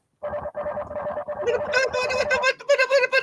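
A burst of electronic chirps and warbling tones, choppy and rhythmic, rising into brighter buzzy beeps near the end, loud and close.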